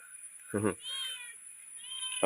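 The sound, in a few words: cat meowing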